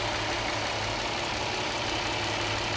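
A 2010 Dodge Charger's 3.5 liter V6 idles under the open hood, a steady close rumble with an even low throb and broad hiss, continuous throughout the short stretch.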